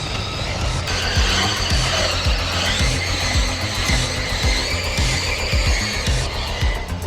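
A radio-controlled truck running in rear-wheel drive on a 3S battery, its motor whining steadily with repeated tire scrabbling and skidding bursts, loud and close, no talking.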